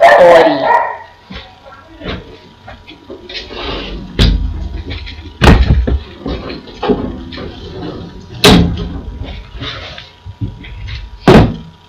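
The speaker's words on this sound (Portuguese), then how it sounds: "Maldito cachorro." A dog barks repeatedly close by in a room, loud sharp barks spaced a second or so apart with whines between, while someone talks underneath.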